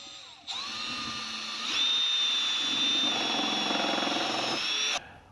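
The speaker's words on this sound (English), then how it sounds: "it takes a while to drill through with those self-tapping screws" A power drill driving self-tapping screws into a Volkswagen Type 4 panel whirs continuously close up, its motor pitch rising as it bites in, then grinding steadily for several seconds before stopping abruptly.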